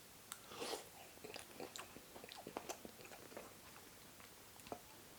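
Soft, close crunchy bites and chewing of cooked aubergine in garlic, chilli and oyster sauce, quiet irregular mouth sounds with no talk.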